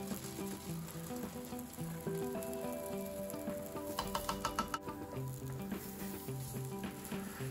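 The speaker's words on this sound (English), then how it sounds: "Let it cook for a while and then make room and lightly roast the pine nuts." Pine nuts roasting in a pan beside stuffing for acorn squash, a soft continuous sizzle with a brief run of rapid clicking taps midway, close and low over a musical background, with no talking.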